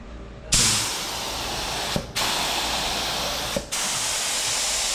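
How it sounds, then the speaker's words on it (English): Steady aerosol spray hissing while painting a BMW E30 with an Mtech 2 body kit, one continuous loud burst broken by two brief pauses, close and alone with no talk. "Stop spraying, bro."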